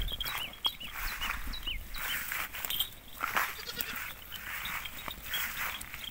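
Goats on a farm bleat repeatedly at close range, several overlapping calls rising and falling over a quiet rustling background.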